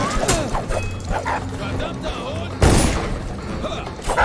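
A dog barks, yips and whimpers in the video game Dishonored amid gunfire and game noise, with a loud boom partway through and people talking over the action.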